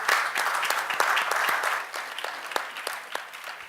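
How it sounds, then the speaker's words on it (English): Audience at an agriculture and climate keynote session gives a round of applause, a burst of many hands clapping that thins out into scattered individual claps toward the end. "Let's give her a round of applause."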